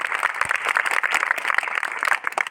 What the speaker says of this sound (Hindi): एक बार चाहता हूँ जोरदार तालियों से उनका अभिनंदन हो